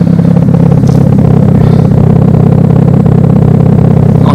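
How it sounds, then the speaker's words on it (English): A loud, deep engine rumble from a 360 bhp Nissan Skyline R33 GTS-T drones steadily at close range, a thick continuous exhaust burble without clear rises in revs. "An idea of what the exhaust sounds like"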